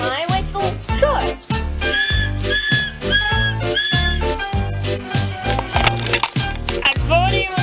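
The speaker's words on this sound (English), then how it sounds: "do you want to hear my whistle?" Whistling heard through loud music with a strong rhythmic beat, several rising and held whistle tones standing out above the steady backing across the whole stretch.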